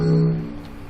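Mercedes-Benz EQC electric car giving off its unlock sound: a short, loud synthetic tonal chime with a steady low hum and overtones, fading over about a second, no talking.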